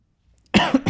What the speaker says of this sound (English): sorry guys, I'm coughing a bit.